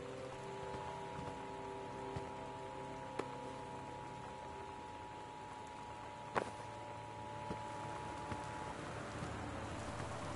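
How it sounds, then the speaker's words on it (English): Steady torrential rain with high winds from the game Gone Home, a continuous hiss of rainfall with faint tonal hum beneath, one sharp crack near the middle, no talk. "The Northwest Weather Service reports high winds and torrential rain conditions affecting the following counties"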